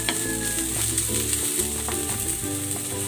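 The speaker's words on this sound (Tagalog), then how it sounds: "Igigisa ko na rin tong bawang. At ang sibuyas." Garlic and onion sauté in hot oil in a pan before chicken goes in, a dense steady sizzle close up with light scraping stirs at intervals and no voices.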